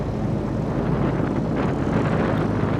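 A motorcycle fitted with a new spark plug runs steadily on a flat road, its engine a constant, dense, rumbling drone with no talking.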